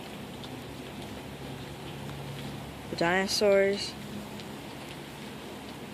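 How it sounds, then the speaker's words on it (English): Steady rain falls on an island in a children's dinosaur story, a soft continuous hiss that runs throughout while a narrator speaks briefly over it. "It was a rainy day on Jurassic Island."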